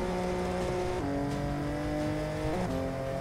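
BMW M3 drifting, its engine revving hard and steady with pitch shifts as gears change, loud and close with no talk.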